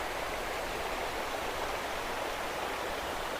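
Water in a forest stream on the way to a waterfall rushes steadily and evenly, a constant broadband wash with no pauses and no voices over it.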